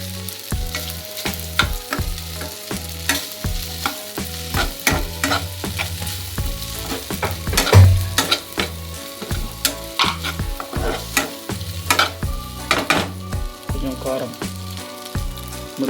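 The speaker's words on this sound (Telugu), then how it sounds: "మంచిగా ఒక 2-3 మినిట్స్ ఫ్రై చేసుకుందాం" Pasta tossed with masala spices, chilli powder, coriander powder and turmeric frying in a pan, with steady sizzling under repeated scraping stirs in a quick, uneven rhythm, close and fairly loud.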